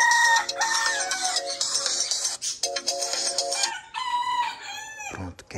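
A rooster crows loudly and repeatedly over dense, continuous music, with clucking calls mixed in and a final crow cutting off sharply at the end.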